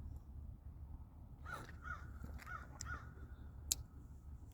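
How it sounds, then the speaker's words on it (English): Several crows caw in a short series of harsh calls, moderately distant against a low outdoor rumble, with a sharp click near the end. "That's the crow. Lots of crows."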